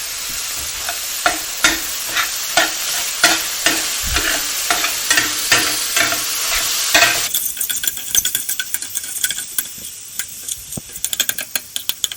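Pork sausage frying in a pan without oil, a constant sizzle under repeated scrapes and knocks of a utensil stirring, close up; the sizzle thins out midway while sharp clinks continue.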